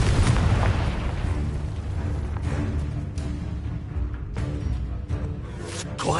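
An explosive fire spell blasts in the video game Hogwarts Legacy: a loud, sustained booming burst with rumbling low end, followed by further sharp impacts and crackling debris, no talking over it.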